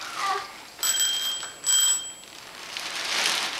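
Two bright rings of a bicycle-style bell on a child's new tricycle, close and clear, with a short pause between them and quiet room sound after.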